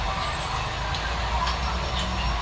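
A Pink Line electric train in Thailand rumbles steadily past on opening day, a continuous low mechanical roar with faint higher whine, close and unbroken with no clear talk.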